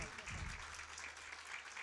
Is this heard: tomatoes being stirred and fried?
no